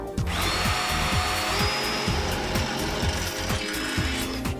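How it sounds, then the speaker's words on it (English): Power drill boring two mounting holes for a door operator arm bracket, a steady loud whine running the whole time with rhythmic low thumps, no voices. "Next, drill the holes."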